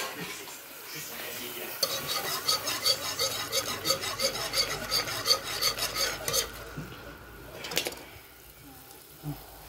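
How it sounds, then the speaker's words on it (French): A whisk scraping and stirring an oil-flour or cornstarch-and-water mix into a creamy white-wine chicken fricassee sauce, with rapid rhythmic rasping strokes against the pot, a pause, then a few scattered scrapes. "incorporez votre mélange d'huile et de farine ou d'eau et de maïzena, petit à petit, pour épaissir la sauce"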